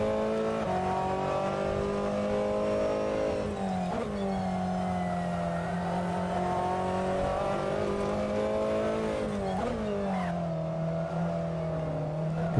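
A Ferrari 488 GTLM race car at VIR in a sim race gives a loud, constant onboard engine howl, rising through gears with sharp shift drops and falling under braking, without any talk.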